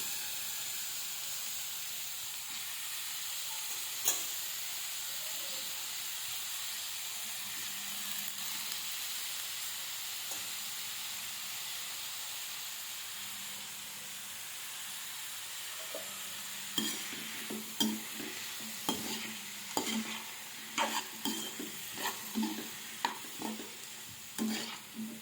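Chopped tomatoes fry in a pan for a tomato masala curry: a soft steady sizzle that turns into repeated close scraping and stirring clatters in the second half.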